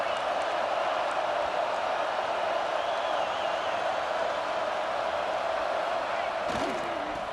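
A steady, dense stadium crowd roar from the video game EA Sports College Football 26 holds evenly throughout, with one brief thump near the end.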